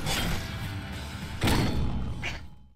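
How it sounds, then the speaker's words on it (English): Suicide bomb explosion in a video game, a pair of heavy, muffled blasts about a second and a half apart, the second stronger, with the rumble fading out at the end. "Suicide bomb."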